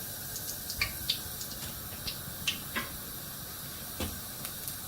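Bay leaves and coriander seeds frying in hot oil, a soft steady sizzle with scattered faint crackles and pops at irregular intervals.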